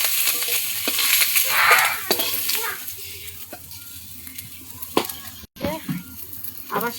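Prawns frying in oil in a home kitchen, a steady close sizzle with scattered sharp clinks and stirring scrapes, while a person talks intermittently over it.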